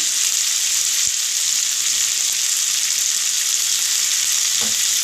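Tomato with salt sizzles steadily in a hot pan for chana masala, a dense, even, close hiss with no pauses across the whole stretch and a couple of faint stirring knocks.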